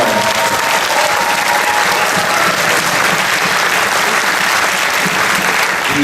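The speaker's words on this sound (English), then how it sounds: "let's have a mad round of applause for Shapiro Hall." A premiere audience at a documentary screening applauds composer Shapiro Hall, a dense, steady wash of clapping from a large crowd that holds loud and even for the whole stretch without a break.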